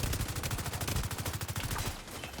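Rapid video game gunfire, a steady automatic burst of evenly spaced shots rattling continuously for a couple of seconds before easing off slightly at the end.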